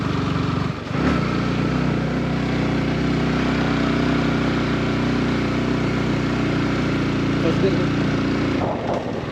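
A Yamaha R15 motorcycle being ridden on a rainy-season trip to Devaramane gives a steady, loud engine drone with rushing wind that holds nearly constant for the whole stretch.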